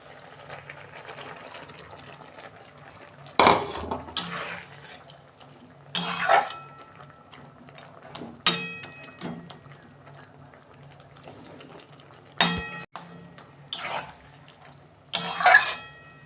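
Okra going into spices frying in a pan for a home-style okra dish: several sharp metallic clanks of a utensil against the pan, spaced apart, over a faint steady frying hiss, with no talking.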